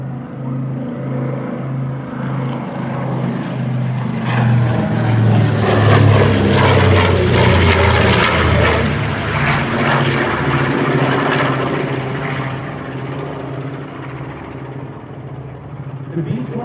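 A B-25 Mitchell bomber passes over an air show, its propeller engines droning in a rising then fading roar that peaks midway, with an announcer's voice talking over the aircraft noise.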